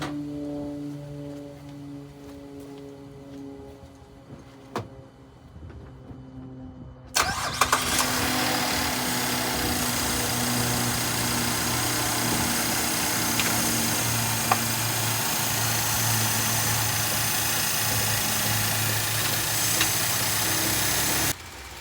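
A GMC Acadia engine cranks and catches about seven seconds in, then runs loud and rough with a steady rumble and uneven vibration. Quiet mechanical ticking comes before the start.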